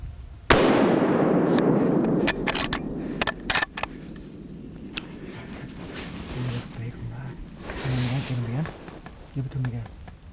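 A single loud rifle shot fired at a whitetail buck in heavy dark bush in Alberta rings out sharply near the start, followed by a decaying rumble, some handling clicks and then quiet voices talking.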